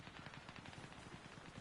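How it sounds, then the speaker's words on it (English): Rapid automatic gunfire rattles in a video game, a dense, continuous burst of quick shots that sounds somewhat muffled and distant, with no talking. "Gunfire, gunfire."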